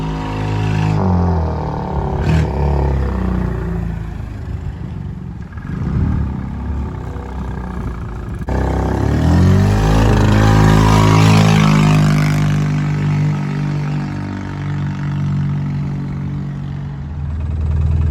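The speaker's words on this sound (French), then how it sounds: "Petit départ arrêté, pied planche." A Microcar M.Go Highland X microcar pulls away hard from a standstill at full throttle, its small engine droning and rising in pitch, with a shift partway through and then a steady loud whine as speed builds.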